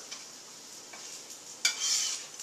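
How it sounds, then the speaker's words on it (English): Soft, steady frying hiss of wheat meat (seitan) cutlets browning in a pan, with a louder sizzling burst near the end, alone without talk. "So I've got my cutlets in the pan. They're frying up a nice golden brown."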